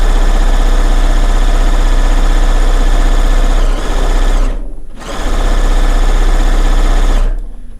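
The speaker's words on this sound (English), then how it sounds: "Which is another reason I really like to piece on on a serger." Serger sewing machine piecing a quilt top, running in a loud, steady, rapid mechanical whir close by, with a brief pause before it starts again and stops near the end.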